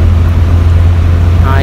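A modified Yamaha 125Z motorcycle engine drones loud and close at a low, steady pitch, with a quick rising rev sweep at the very end.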